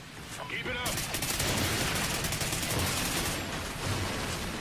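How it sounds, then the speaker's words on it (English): Call of Duty Ghosts Blitz on the FreeFall map roars with continuous gunfire and explosions, loud dense bursts of rapid shots layered into a steady barrage. "There's just like explosives and shit going off continually"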